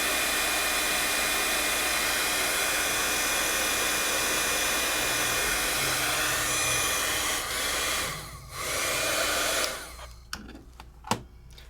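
Heat embossing tool blowing hot air onto embossing powder, a loud steady whooshing roar held for most of the clip, then cut off and followed by a few faint clicks.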